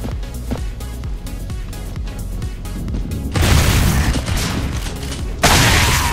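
Gunfire in the shooter video game Gears of War 3, dense sustained bursts of shots and booms that grow louder and harsher partway through, continuous with no pauses.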